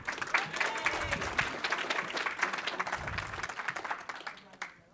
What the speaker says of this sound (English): Can we give one more round of applause for Nicole?